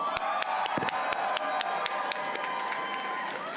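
Crowd at a Walsh School of Foreign Service commencement bursts into sustained applause and cheering, a dense wash of clapping with sharp claps and whoops standing out, steady and loud throughout.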